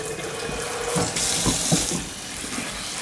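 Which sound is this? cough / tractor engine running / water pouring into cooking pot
water pouring into cooking pot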